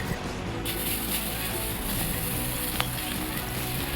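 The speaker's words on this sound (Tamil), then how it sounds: "பிரெட்டை நல்லா இந்த மாதிரி பொன்னிறமாக வறுத்து எடுத்து வச்சுக்கோங்க" Bread slices fry in oil in a pan until golden, giving a steady, even sizzle with a soft crackle that holds at a constant level throughout.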